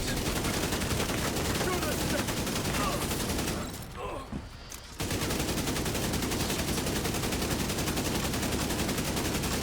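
Sustained, rapid automatic gunfire in a video game rattles loudly and almost continuously, breaking off for about a second midway before resuming at the same relentless pace.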